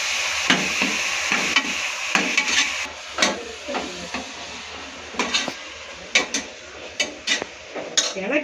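Chicken masala with green chilli frying in a pan on a home stove, a steady crackle and sizzle with repeated scraping and stirring clinks of a spoon against the pan, close and fairly loud, no talking.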